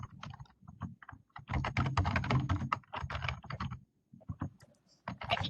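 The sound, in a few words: someone typing on a keyboard during a call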